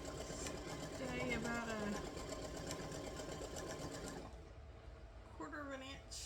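A sewing machine stitches a quilt with a steady, fast needle rattle that runs continuously and then stops partway, with a person talking over it and then briefly after it.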